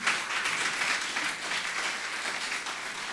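A church congregation claps together during a Spanish-language service, a steady, lively wash of applause filling the room throughout.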